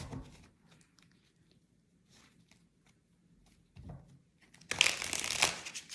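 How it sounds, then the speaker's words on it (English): Soft, intermittent rustles and papery taps of tarot cards, then a louder burst of crisp card shuffling near the end, close by with no talking. "Shuffle them really good."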